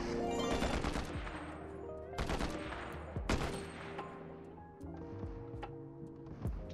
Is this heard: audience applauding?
no